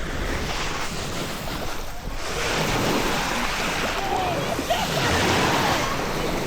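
Sea waves washing onto Kobuleti beach in Georgia, a continuous roar of surf mixed with heavy wind buffeting the microphone and a surge that swells midway.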